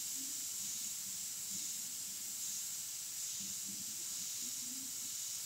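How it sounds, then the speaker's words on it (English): A gravity airbrush with its tip removed sprays paint in a steady, faint, unbroken hiss, with low voices murmuring underneath. "Obviously I can get a lot finer detail with this gravity airbrush with the tip taken off like that"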